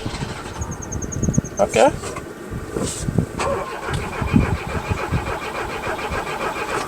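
Vintage Peugeot car at a workshop, its engine cranking after the carburetor is pumped and catching into a running idle at close range, with a brief spoken word and some workshop noise.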